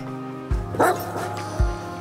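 A dog in the video game The Red Lantern barks, with a short yip-like bark in the middle over a steady musical game backdrop, punctuated by low thuds.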